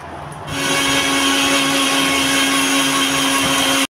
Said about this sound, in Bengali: আমরা ভালো করে মিক্সিতে দিয়ে পেস্ট করে নেব